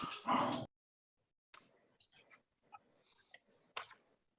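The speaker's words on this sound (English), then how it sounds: "Sorry, my dogs." Dogs bark at home during a city council meeting call: a loud, close burst of barking, then quieter scattered yips, whimpers and clicks.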